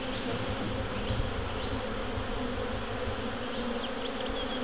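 A dense, continuous buzzing of many bees around wild hives fills the air at a steady level, with occasional individual bees whining past close by.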